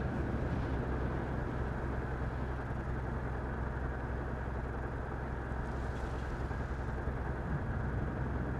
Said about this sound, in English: I love how it just sounds like I have a diesel truck behind me when the tractor beam is active.